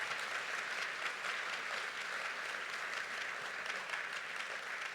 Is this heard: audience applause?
yes